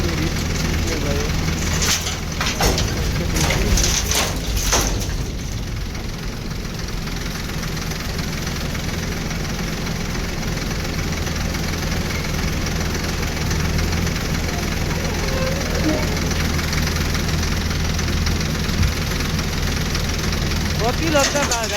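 JCB digger working on a riverbed, loading sand into a truck: a steady loud diesel engine drone with knocking, and heavy clattering bursts of machinery early on. Voices talk nearby.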